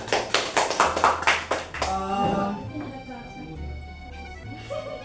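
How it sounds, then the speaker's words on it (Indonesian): Classroom applause from fourth-grade pupils for a classmate, a short burst of scattered claps that fades after about two seconds, followed by a low hum and soft voices. "Beri tepuk tangan kepada temannya."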